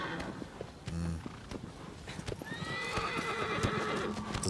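A horse gallops with fast clip-clop hooves in the game Shadow of the Colossus, and a clear whinny rises partway through over the steady hoofbeats.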